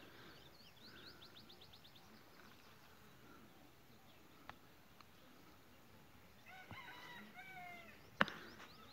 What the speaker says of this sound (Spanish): Ese cantar de los gallos del campo, los gallos del rancho